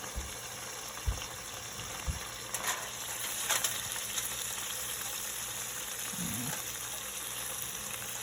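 Bacon for a burger fries in a pan, a steady, fairly faint hiss and crackle that holds throughout, with a few soft clicks and shuffles nearby and no talking.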